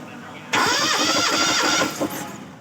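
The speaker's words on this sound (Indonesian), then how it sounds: "Selanjutnya kita starter yang lubang ketiga." A car engine cranked by its starter during a compression test, with steady rapid churning for about a second and a half, loud and close, then it cuts off.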